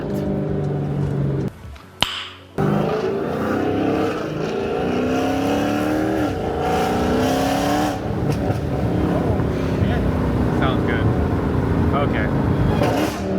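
A Dodge Hellcat V8 fitted with a Formula Z exhaust revs hard, its loud, rasping roar climbing and falling in pitch over several seconds after a brief drop-out, with excited voices talking over the engine near the end.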